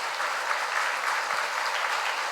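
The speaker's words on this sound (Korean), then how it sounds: "우리 박수로 한번 축복해 주십시다" Congregation applause fills a church during a pastor's installation service, dense and steady throughout with no pause, a broad wash of many hands clapping at once.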